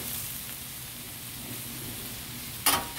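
Reuben meat for a sandwich sizzles quietly in a pan on low heat with a little added liquid, a steady soft crackle like light rain, with one brief sharp clink near the end.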